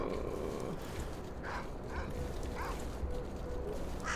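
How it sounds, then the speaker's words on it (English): Dogs in the video game S.T.A.L.K.E.R. Call of Pripyat bark and yip in several short bursts over a low mechanical game ambience, fairly quiet and at a middle distance. "These dogs are a problem."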